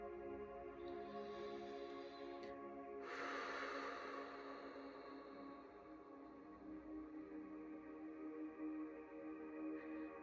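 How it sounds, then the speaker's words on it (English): A single deep breath blown out forcefully, rushing briefly near the start and then fading under steady soft sustained music tones. "take a big deep breath and blow this jealousy into the golden healer"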